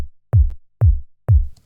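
Three evenly spaced techno kick drum hits where a deep sub layer is combined with a bright click on top, giving punchy, loud thumps with a crisp attack, heard alone.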